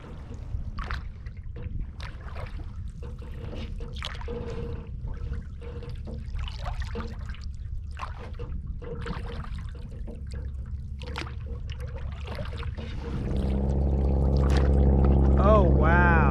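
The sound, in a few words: canoe paddling through swamp water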